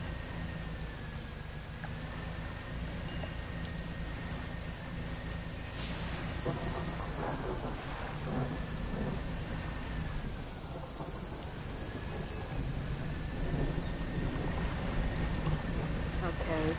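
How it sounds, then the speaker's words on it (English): Thunder rumbles low and long over steady rain in the fishing video game Dredge, a continuous stormy wash with a voice talking over it. "I'm hoping that rumbling sounds thunder."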